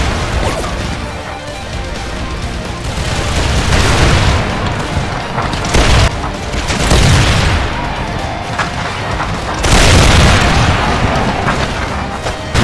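Battle sounds from the Battle of Blenheim: heavy cannon booms and crashing volleys of gunfire roll through in loud, repeated blasts with dense rumbling between them.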